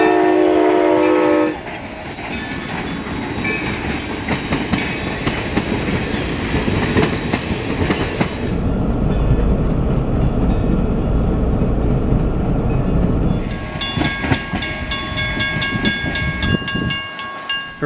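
Steam locomotive 3025 of the Valley Railroad passes near Dump Road and Highway 154, with a loud rumble and rhythmic rail clatter building and fading, and sharp whistle blasts at the start and again near the end.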